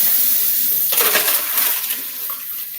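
A large drink is poured out in a kitchen, a splashing gush of liquid that starts suddenly, runs for about a second and then trails off over a faint background hiss.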